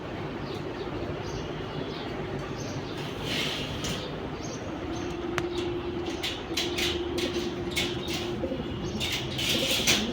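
Pigeons in a loft give low repeated coos that carry through the middle of the clip, with scattered sharp clicks, rustles and wing sounds around them and no talk.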